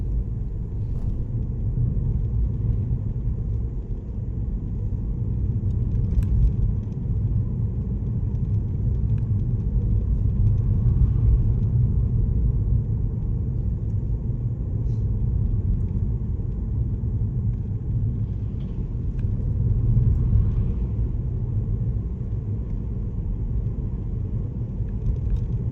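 On quiet roads on Guernsey's west coast in early morning, cars pass now and then: a steady, distant low rumble of traffic that swells gently in places, with no talking.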